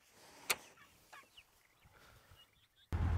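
Turkeys in a hoop structure on a ranch call out faintly, with one sharp burst followed by a few softer gobbling calls at a distance, ending in a sudden louder rumble of noise.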